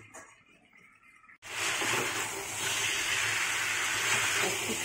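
After a quiet moment, tengra fish and radish fry in spices in a pan, letting out a sudden, steady sizzling hiss that carries on evenly to the end.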